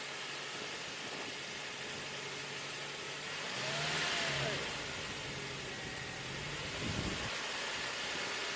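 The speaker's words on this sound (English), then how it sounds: "go ahead and rev up the engine a little bit and see what happens" The engine of a 2004 Toyota Tacoma with overheating and rough running is revved briefly above a steady idle, a faint swell that rises and settles back amid a constant background rush.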